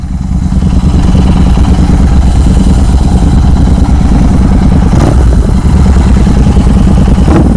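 Two tuned Royal Enfield GT 650 motorcycles, one with a Venom tune and one with a Code 6 tune, roar loudly and continuously side by side, their engines droning and revving throughout with no pause.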